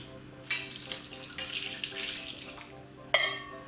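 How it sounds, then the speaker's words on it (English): Vanilla gelato base of milk, sugar, eggs, syrup, vanilla seeds and extract being stirred in a pan, a soft continuous swishing with a few sharper clinks of utensil against the pan, close and alone. "And stir."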